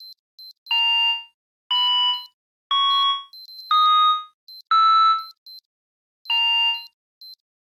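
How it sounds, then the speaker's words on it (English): An alarm clock rings on a bedside table in the video game Unmemory, sounding repeated bursts of bright electronic chiming tones in an irregular pattern, loud and close with short silent gaps between them. "My alarm is ringing as I watch on the bedside table."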